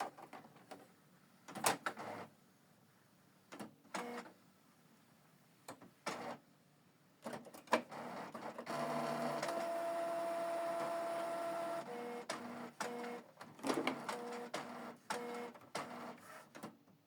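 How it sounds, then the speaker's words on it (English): A Canon Pixma TS4150i printer powers on and initializes with a series of clicks and mechanical knocks, then a sustained motor whir with a faint tonal whine, followed by more scattered clunks, all close and without speech. "select this button to switch the printer on"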